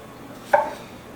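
A single crisp knife stroke slices a strawberry into quarters on a board. The short, faint cut lands alone in a quiet room.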